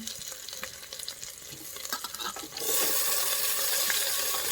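Chopped tomato and onion fry in a hot pan for a mango sambar, with soft stirring and crackle at first, then a loud, steady, close sizzle from partway through.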